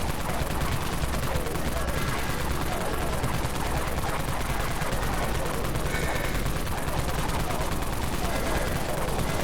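The Wraith Cannon fires in Dead Frontier as a dense, continuous barrage of rapid shots, loud and unbroken throughout over constant game noise.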